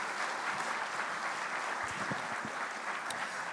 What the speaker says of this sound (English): Give American Airlines a huge round of applause.